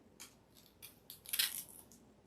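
Scissors snip through Christmas swag greenery in a few quick, close, quiet cuts, with one slightly louder snip partway through; no one speaks.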